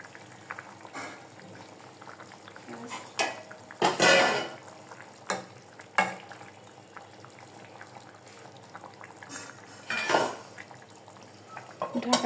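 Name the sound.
fish added to boiling curry in a pot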